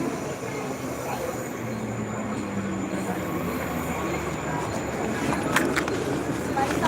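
A Mumbai local train running, a steady close rumble and rattle of the carriage that holds throughout, with a few faint squeals and clanks near the end and a voice speaking now and then.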